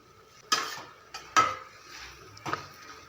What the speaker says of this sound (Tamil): இப்போ நல்லா வதக்கி விடுங்க, நல்லா கிளறி விடுங்க.